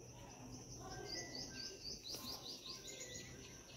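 Pet lovebirds, quails and cockatiels chirp and tweet in quick repeated calls, fairly faint against a steady hum of background noise, with an insect-like trill running underneath.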